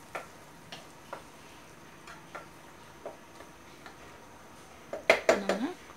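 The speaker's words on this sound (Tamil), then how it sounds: "ரைஸ் ஆட் பண்ணிவிட்டு நல்லா மிக்ஸ் பண்ணி விடுங்க" Cooked rice being mixed into carrot rice in a pot: light scattered ticks of a spoon against metal, then a quick cluster of louder clanks and scrapes at the end, close by.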